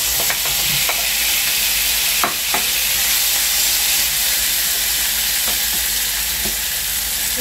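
Chicken wings frying with mushrooms and onion, a loud, steady close sizzle and hiss with occasional spatula taps and scrapes against the pan, no talking.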